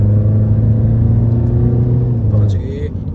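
A Mahindra XUV500, a heavy two-ton SUV in normal drive mode, pulls away hard in a 0-100 run, its engine rumble loud and close and rising in pitch before easing off near the end.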